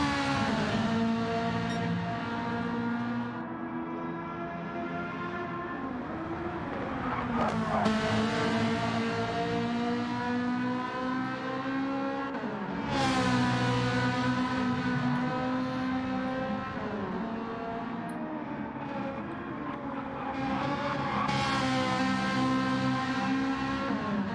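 Lamborghini race car engine in a racing video game, a loud sustained harmonic roar that climbs through the revs and drops sharply at each gear change, several cycles in a row, alone without talk.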